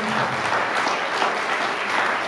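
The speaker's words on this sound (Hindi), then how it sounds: "एक बार जोरदार तालियां" Dense, steady applause from a large crowd fills the whole stretch without pause.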